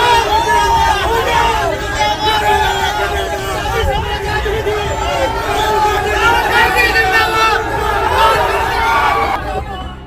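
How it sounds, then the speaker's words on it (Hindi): Dense crowd hubbub at Rahul Gandhi's Nyay Yatra rally in Bihar, many voices chattering and shouting together in a steady, loud wash throughout, easing off slightly at the very end. "देखिए राहुल गांधी की न्याय यात्रा की भीड़"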